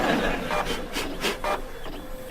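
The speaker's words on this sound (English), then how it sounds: "This printer is driving me crazy. It's so slow." A slow office printer running, giving a few soft rasping, rubbing mechanical passes at moderate level, with no talk over it.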